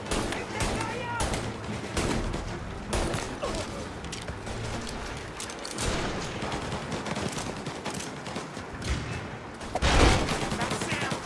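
Gunfire rattles through a firefight in the video game Mafia: Definitive Edition, dense repeated shots and bursts over a busy mix while voices shout over it.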